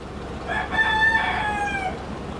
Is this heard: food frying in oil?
no